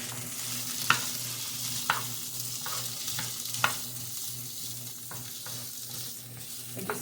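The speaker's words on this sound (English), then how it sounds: "I just want to brown this just a little bit" Food sizzles and browns in olive oil in a pan, a steady close frying hiss with a few sharp utensil clicks and scrapes as it is stirred.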